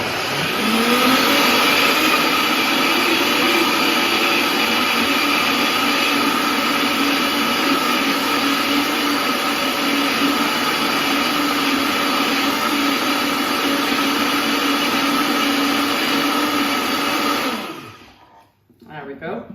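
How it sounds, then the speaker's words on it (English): High-speed kitchen blender running continuously at full power with a loud steady whine for most of the stretch, then cutting off abruptly near the end. "Putting in the high-speed blender for"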